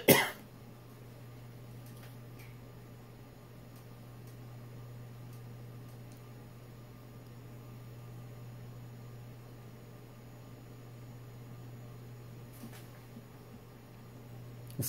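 A single short cough comes at the very start, then gives way to a long stretch of quiet room tone with a steady low electrical hum.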